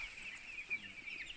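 Broiler chicks in a poultry shed, giving a steady, thin high-pitched chirping that carries at an even, moderate level throughout.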